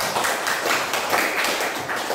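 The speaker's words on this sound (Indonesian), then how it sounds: "Tepuk tangan untuk semuanya" A dense, steady patter of applause from a group clapping their hands at an Indonesian school lesson, continuous and fairly loud for about two seconds with no talk.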